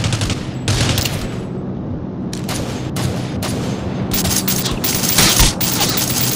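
Sniper and rapid gunfire in the battle-royale shooter Rules of Survival, a dense fusillade of sharp broadband cracks with several loud isolated shots standing out near and far, steady and without talk.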